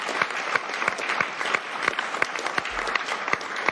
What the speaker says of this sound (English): I said I wouldn't do this meeting unless I had at least 4 totally spontaneous rounds of applause.